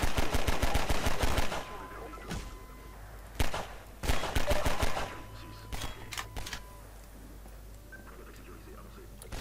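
Gunfire in the Half-Life 2 video game, rapid bursts of automatic shots in two clusters separated by single reports and quieter pauses, with a voice speaking softly over it.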